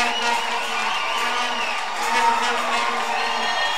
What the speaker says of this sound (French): Nous sommes dans les acclamations pour le roi des rois